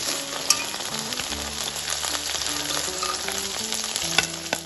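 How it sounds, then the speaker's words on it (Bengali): Okra (bhindi) frying in oil in a pan, a close, steady crackling sizzle with small popping bursts and occasional stirring scrapes, with no voices. "ঢ্যাঁড়সগুলো দু থেকে তিন মিনিট আমি ভেজে নিয়েছি এবার আমি এগুলো তেল থেকে তুলে নেবো"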